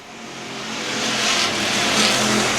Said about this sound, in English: Tyler Lerman and Josh Hodgson bouncing off each other down the front straightaway in the battle for the 6th spot